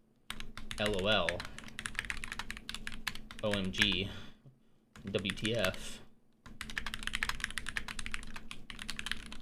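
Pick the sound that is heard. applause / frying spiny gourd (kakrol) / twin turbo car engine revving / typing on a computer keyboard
typing on a computer keyboard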